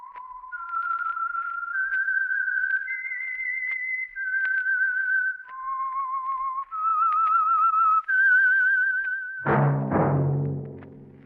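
The whistled theme of the radio drama The Whistler, a melodic tune clear and sustained, rising and falling over several phrases, then cut off by a sudden burst of orchestral music.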